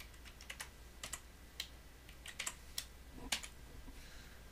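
A computer keyboard is typed on at close range with scattered, uneven key clicks while a password is entered, quiet and alone over faint background hiss.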